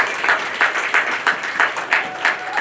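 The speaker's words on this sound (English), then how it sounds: "Give Erica another round of applause." An audience at a cable access station's 40th anniversary gala claps in a rhythmic patter with regular louder accents, moderately close and continuing without break.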